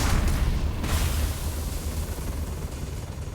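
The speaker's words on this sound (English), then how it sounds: "What is she just spamming grenades?" Grenade explosions in the video game Starfield, a heavy boom at the start with a sharp crack near one second, then a low rumbling tail that slowly fades.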